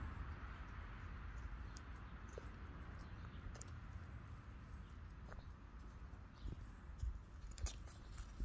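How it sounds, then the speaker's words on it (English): A fox eats watermelon outdoors with faint, soft, wet crunching and chewing bites scattered through a hushed background, growing slightly more distinct toward the end. "There's Felix enjoying some watermelon."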